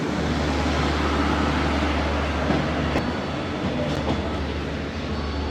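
A passenger train running from Thailand to Malaysia rumbles steadily, a continuous low drone with broadband rattle and a few faint clicks heard from on board, with no talking.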